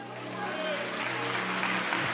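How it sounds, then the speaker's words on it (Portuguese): A church congregation applauds God during a sermon, producing steady clapping over a sustained musical tone and murmured voices. "Aplauda Ele, irmão."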